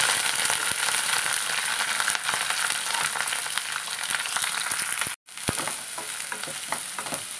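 Sliced onions hit hot oil in a pan for sardine curry, giving a loud, continuous sizzle with stirring scrapes, broken by one brief silent cut before the frying resumes.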